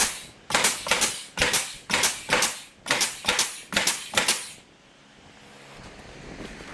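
A staple gun fires into cedar shutters in a quick, even run of about a dozen sharp, loud snaps, then falls quiet to low room noise.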